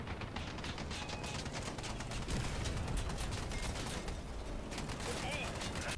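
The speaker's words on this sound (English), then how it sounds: "Yay, machine gun OP." Rapid, continuous machine gun fire from a vehicle in the combat game Crossout, loud and dense throughout with sustained rattling bursts, mixed with engine rumble and battle noise, while a person talks over it.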